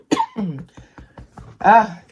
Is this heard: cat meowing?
no